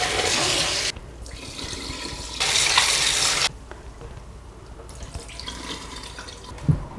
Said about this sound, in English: So I'm going to quickly rinse off the rice twice really fast.